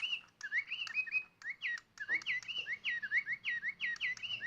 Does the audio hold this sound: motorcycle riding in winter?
no